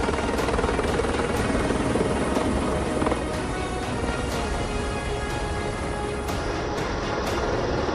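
A helicopter flies over the Marathwada region of Maharashtra, its rotor chop and turbine whine steady and continuous throughout, fairly distant and even in level with no voices.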